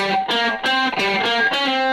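A distorted electric guitar plays a classic riff picked with upstrokes, five loud, evenly rhythmic chords ringing alone.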